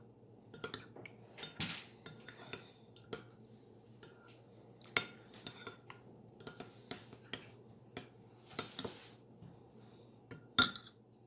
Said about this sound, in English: I'm just going to mix this to combine properly.